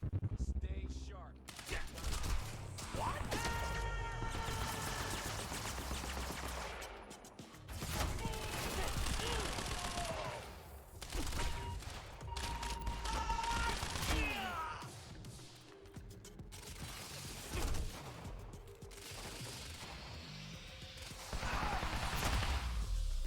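Bursts of gunfire from snipers in the shooter Quantum Break, loud rapid cracks and volleys that come and go over about twenty seconds, mixed with thuds, game music and talking voices.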